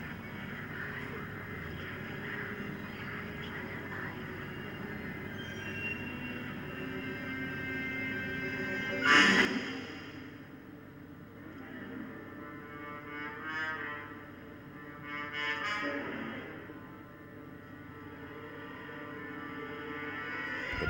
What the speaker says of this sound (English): the only sounds are the static from the TV and slowly building music